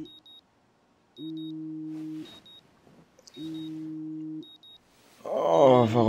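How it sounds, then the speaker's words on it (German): An alarm clock rings in the video game Life Is Strange as two long, loud electronic buzzing bursts separated by a short pause, followed by a burst of other game sound at the end. "Oh, nicht schon wieder der Wecker. Ich hasse dieses Geräusch."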